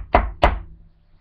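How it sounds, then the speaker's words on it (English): Two firm knocks land on a door, close and loud, evenly spaced about a third of a second apart, with silence afterwards. "a knock came at the door"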